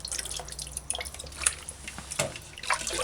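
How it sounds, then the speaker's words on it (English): White vinegar splashes and drips into a dish of chicken feet in brief, faint trickles and droplets, with no talking. "Add a little white vinegar."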